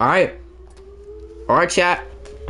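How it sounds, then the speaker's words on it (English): Outdoor civil defense sirens sounding during a test, heard as a steady far-off tone in the background while someone talks close to the microphone. "By the way, if you hear sirens in the background"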